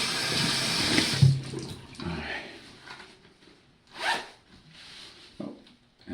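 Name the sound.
front zip clothing being zipped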